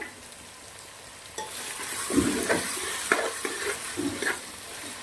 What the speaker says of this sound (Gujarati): તો 5 મિનિટ સુધી તેલ અને ઘીના અંદર આપણે વેજીટેબલ સાંતળવા દેવાના છે.